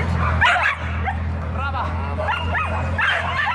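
Several dogs yip, bark and whimper in short bursts at an outdoor springtime dog parade in Sicily, close and lively over a steady low background hum.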